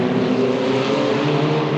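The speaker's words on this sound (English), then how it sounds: "Oh, we've got a noisy exhaust." A loud racing exhaust at the Rolling Thunder Expo 2018 drones steadily nearby, a sustained throaty engine tone holding for the whole stretch.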